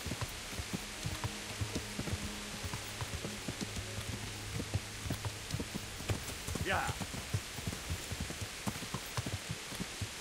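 Rain falls in the medieval video game Kingdom Come: Deliverance while a horse is ridden, giving a soft, steady patter with scattered drops and faint hoof clops, all quiet and ambient.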